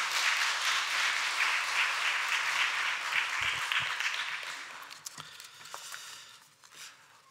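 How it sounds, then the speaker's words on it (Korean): A church congregation applauds to welcome a pastor. The clapping is loud and sustained, then thins into scattered claps and fades. "우리 큰 박수로 함께 목사님 모시겠습니다"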